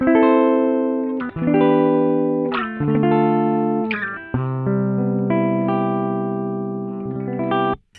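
Gibson ES335 electric guitar on the mix pickup position, played clean and dry with no slicer effect, a series of strummed chords and ringing notes, close and clear with no talking.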